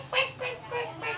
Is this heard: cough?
no